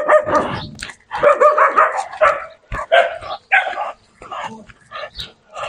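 Several dogs in the village of Povoado Pau João bark in loud, close, rapid bursts with yips and whimpers, and a person talks among the barking.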